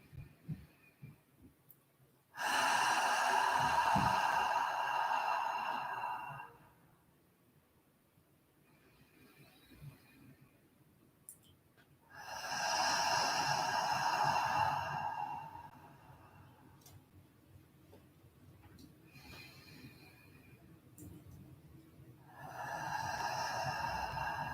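A slow, audible exhale through the mouth during a vinyasa flow yoga session, a soft breathy rush repeated three times with quieter pauses between, close and with no talk.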